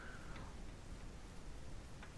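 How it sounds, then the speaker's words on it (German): Steady rain during a storm in the Ranch Simulator video game, a soft, continuous hiss of falling drops with no voices. "es regnet viel zu viel"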